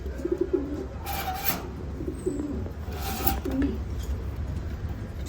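Soft, low coos of racing pigeons repeat twice over a steady background hum, fairly close by.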